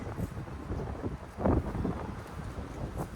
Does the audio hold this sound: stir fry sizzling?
no